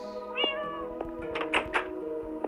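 Cats in the video game Minecraft meow several times in quick succession, clear and close, mixed with a few soft knocks and thuds and no speech.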